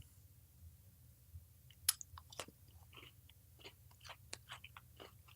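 Someone chews fudge-covered Oreo cookies close to the mic, with scattered crisp crunches and soft wet clicks breaking over a low steady background hum.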